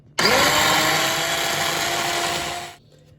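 An electric food chopper grinds pesto ingredients in one continuous close whirring burst that starts abruptly, holds steady for about two and a half seconds, then winds down to quiet.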